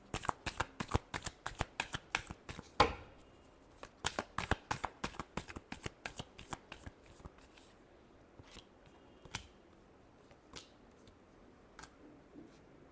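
Tarot cards being shuffled in rapid crisp riffling bursts, a long run of flicks that thins into sparse single snaps and taps toward the end, close and fairly quiet.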